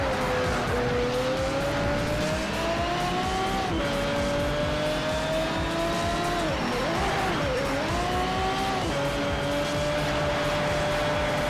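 A race car in the Need for Speed: Shift video game revs hard with a loud continuous engine whine that rises and falls through gear changes, while tires squeal and skid during heavy braking.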